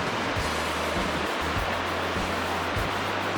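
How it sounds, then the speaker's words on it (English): Rocky rapids on the Dan River rush in a steady, dense roar of moving water, close and unbroken throughout with no voices. "There's the rocky rapid section"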